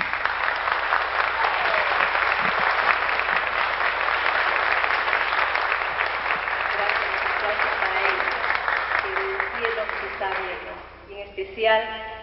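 Sustained audience applause fills a concert hall at a Peruvian folk music night, a dense steady wash of many clapping hands that thins toward the end into a few scattered claps.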